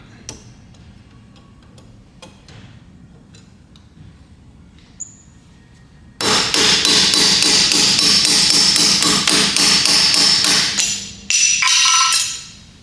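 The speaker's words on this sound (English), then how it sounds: "They grip into the cap, and then you got a nub there to pound on." Hammer pounding on a pliers-type tool gripping a wheel bearing cap on a Kia Sephia, a fast run of loud metallic strikes for several seconds after a quiet stretch, then a brief pause and a second short burst.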